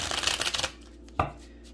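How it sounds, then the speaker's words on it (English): A deck of tarot cards is shuffled, giving a rapid riffling flutter for about two-thirds of a second, followed by a single soft tap as the cards settle, close and clear with no voices. "let's get a couple of shuffles in"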